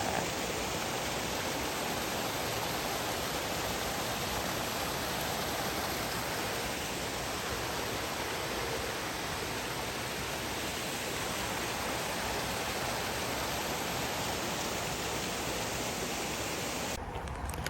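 A clean, clear brook flows beside a hiking trail on Mt. Tammany, a steady broadband rush of water heard close and continuous with no talking.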